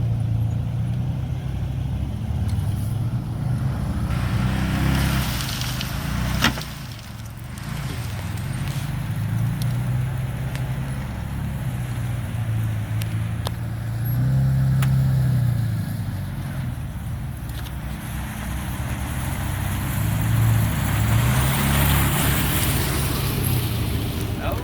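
A 2,200 lb UTV on 33-inch EFX Motohavoc tires tries to back out: a close, continuous low engine rumble that swells and eases as the revs rise and fall.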